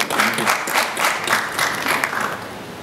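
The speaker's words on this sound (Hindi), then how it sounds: "जोर से ताली हो जाए" An audience claps steadily and loudly at a comedy show launch, a dense, even wash of applause with a slight pulsing rhythm and no voices on top.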